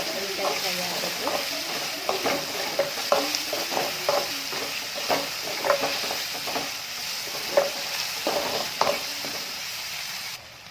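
Chopped tomato and egg frying in oil in a pan, a steady sizzle broken by repeated scraping strokes of a spoon stirring at an even rhythm, close and clear, with no talk.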